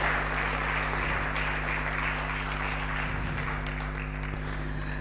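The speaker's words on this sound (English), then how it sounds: "keep clapping, keep clapping, keep clapping." Steady, dense clapping from a crowd, continuous and fairly even throughout with no pauses, over a constant low hum.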